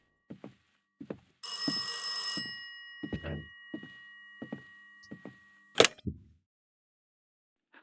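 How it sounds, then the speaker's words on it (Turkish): A phone rings once in a dark house in the horror game Mirror Mirror, a short loud electronic trill among sparse footsteps and thumps, followed by a sharp knock-like hit. "Benim, benim telefonum sanırım."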